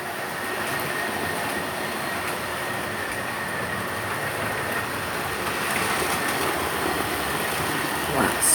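A Rio Grande model train, number 6011, runs on a club layout, giving a quiet, steady rolling hum with faint rail clatter and a brief squeal near the end.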